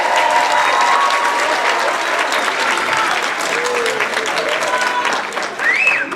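An audience applauds steadily for a 6th grade beginning band at a school Christmas band concert. The clapping is dense, loud and sustained, with a faint cheer near the end.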